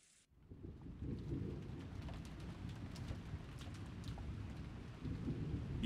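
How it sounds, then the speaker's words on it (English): Steady rain falls around a vast mansion in the Umineko visual novel game, with low rumbling thunder underneath, faint and continuous with no voices. "it created an eerie silence with no sound except for the rain."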